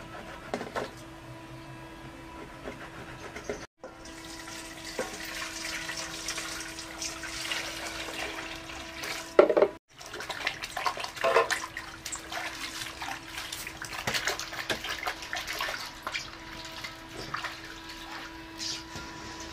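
Lukewarm water sloshes and trickles in a basin as white giveh shoes are soaked with soap for washing. It is a steady, close wet swishing with a faint constant hum and a couple of brief drops in level.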